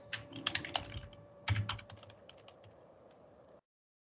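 Keys clack on a computer keyboard as an email address is typed, crisp close taps in two quick bursts that thin out before falling silent, with no voices.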